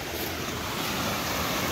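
Ocean waves washing in, a steady, close rush of surf noise lasting under two seconds, with no one speaking.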